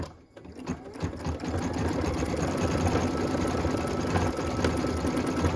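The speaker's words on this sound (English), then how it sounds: "move to machine step 13, which is stitching the heart detail in the center of that stamp detail" An embroidery machine stitches a small heart detail in the center of a stamp design on a Christmas ornament, a steady close, loud mechanical whirr of rapid needle strokes running continuously with no talk.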